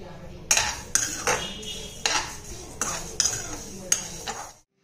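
Chia seeds going into roasted seeds in a metal pan with the gas turned off, marked by repeated sharp clinks and scraping strokes of a spoon against the pan, each followed by a short rustle, fairly close.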